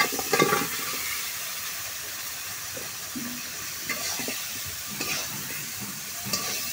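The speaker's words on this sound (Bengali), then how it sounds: "এখন তরকারিটা ঢেলে দেব" Vegetables tip into hot spices in a pan and set off a steady, loud sizzle that runs throughout, with occasional scraping stirs and a few knocks, heard up close and with no one talking.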